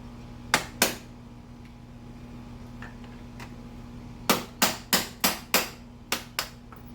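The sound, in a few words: knocking cotter pins out of KTM 500 EXC-F foot peg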